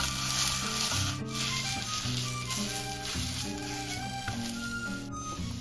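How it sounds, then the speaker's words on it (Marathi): Amla pulp roasting in ghee in a kadhai gives a steady, close sizzle with faint stirring scrapes, running continuously beneath a melodic background layer. "तुपामध्ये भाजून घेणार आहोत।"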